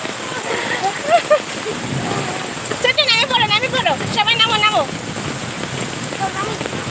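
Heavy rain falls hard in a village, a steady hiss while a person talks in the middle of the clip.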